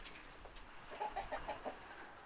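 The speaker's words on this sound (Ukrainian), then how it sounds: "Двері не закрила, курочки повиходили." Hens that have wandered out of an open coop on a rural farm cluck faintly in a short run of soft, quick notes, some distance away over quiet outdoor background noise.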